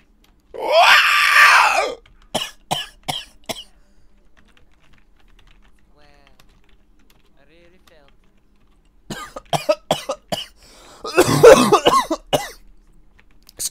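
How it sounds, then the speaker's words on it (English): A person coughing, one heavy cough at the start and another harsh burst near the end, close to the microphone, with sharp keyboard clicks in between. "Legit cough."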